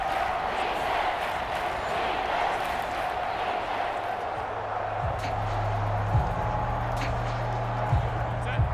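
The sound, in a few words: stadium crowd roaring at NFL game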